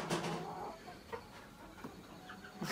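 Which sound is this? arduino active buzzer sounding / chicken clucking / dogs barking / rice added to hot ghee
chicken clucking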